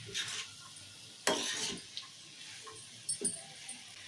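Cabbage curry fries in oil in a pan, with a quiet sizzle under scattered spoon scrapes and stirring clatters, close by.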